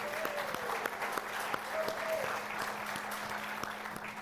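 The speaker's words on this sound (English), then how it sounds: "Let's give them a round of applause" A church congregation at a 10 a.m. service claps for the organizers of a dance and karaoke night, producing a full, sustained round of applause with a few sharper claps standing out and faint voices underneath.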